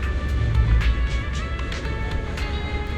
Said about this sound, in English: Sounds like your AI assistant has the car ready.